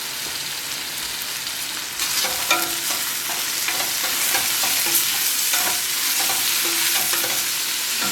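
Fresh beets being stirred into a pot of traditional pork borscht: a steady background sizzle with repeated scraping and clinking stirs, close and fairly loud, with no voices.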